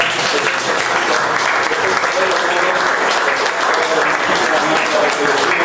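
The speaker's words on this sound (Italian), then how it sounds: "Ecco, un nuovo applauso." Steady, dense applause from a crowd, sustained and fairly loud throughout with no break.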